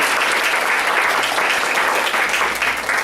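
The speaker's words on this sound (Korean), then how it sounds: "이주 목사님 나오실 때 우리 한번 보내주신 하나님께 격려의 박수와 또 목사님에게 환영의 박수를 올려드리겠습니다" Steady congregational applause at a church service welcoming a pastor's wife, a dense, even patter of many hands clapping throughout with no break.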